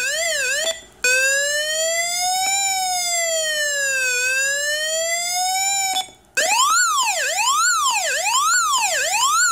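An Arduino Uno electronic two-tone siren sliding smoothly up and down between pitches, loud and continuous, with two brief breaks before a faster wailing sweep.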